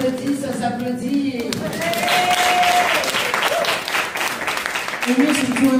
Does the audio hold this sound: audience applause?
yes